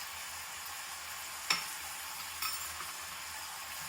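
Spice powders, chilli powder, coriander powder and garam masala, fry in a pan for tomato bath, giving a steady soft sizzle with a couple of sharp scrape or stir knocks partway through.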